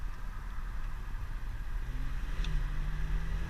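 Engine of a V12 BMW 760Li under hard acceleration, a steady low rumble with rising tones heard from inside the cabin with the window down, plus some wind noise.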